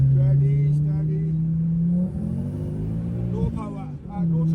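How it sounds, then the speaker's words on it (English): A Ford Escort RS Cosworth engine hums and revs up and down steadily, heard from inside the car with the window open, with people speaking over the engine noise. "we've got the window open as well, so you can hear the car."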